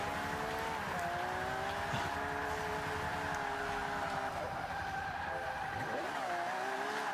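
Racing car engine in the Forza video game, revving with shifting pitch as the car goes off track at the first corner, with tire skidding and squealing mixed in, loud and continuous throughout.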